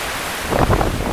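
Strong wind blowing at a harbor, a loud steady roar of wind buffeting the microphone with gusts swelling midway and no voices.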